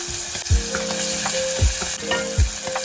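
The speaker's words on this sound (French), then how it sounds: "on va venir faire revenir tout ça avec un beurre noisette" Artichokes and garlic fry loudly in brown butter, with a steady broadband sizzle and three heavy low scraping strokes as the pan is stirred, close and alone.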